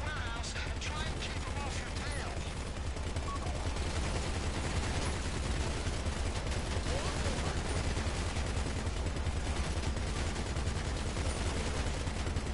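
Gunfire in GTA V during a heist car chase, dense rapid bursts of automatic shots over constant engine and game noise, loud and continuous throughout.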